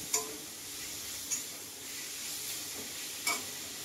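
Garlic spice paste frying quietly in a pan, a soft steady sizzle with three sharp spatula scrapes against the metal, close but faint.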